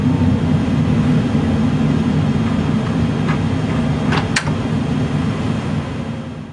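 Steady loud roar from a Qantas 747 flight simulator during a landing rollout with reverse thrust at Heathrow, a continuous broadband rumble that holds throughout and eases slightly at the end.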